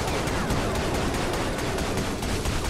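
Gunfire in the Ratchet and Clank All 4 One video game crackles as a dense, continuous volley of rapid shots, loud and unbroken throughout, with no voices.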